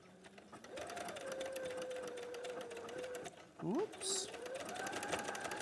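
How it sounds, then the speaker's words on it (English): A domestic sewing machine stitches fabric while trimming its edge, a rapid steady whirring hum that runs, pauses briefly, then restarts with shifting speed, under a woman's quiet speech. "and then let's start to sew"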